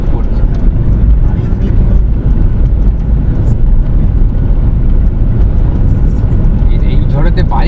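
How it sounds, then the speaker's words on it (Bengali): A strong, dry storm wind on a mountain road on the way to Spiti Valley, heard as a loud, constant low roar and rumble that buffets throughout without letting up. "মারাত্মক ঝড়ের কবলে পড়ে গেছে, বৃষ্টি কিন্তু হচ্ছে না, শুধু ঝড় হচ্ছে।"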